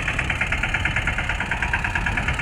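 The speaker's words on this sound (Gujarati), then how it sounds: "આ ટ્રેક્ટર ચાલુ છે મગફળીમાં" A tractor engine working in a groundnut field idles steadily with a rhythmic mid-range chug and low rumble, close by and continuous, with no talking.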